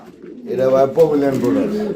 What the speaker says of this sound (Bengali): পমিলিয়ান পোটার কবুতর জোড়া